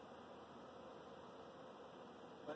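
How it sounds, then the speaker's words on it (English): A massive swarm of honey bees crawling into a hive gives a faint, continuous drone that holds evenly before a short bump at the end. "that's a massive amount of bees"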